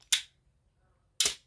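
An Olympus OM-1 film camera with a faulty shutter fires at 1/60 second: two sharp, close mechanical clacks of the mirror and shutter, about a second apart, in an otherwise quiet room.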